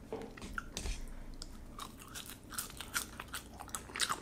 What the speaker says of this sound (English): I'm gonna also try out these fries.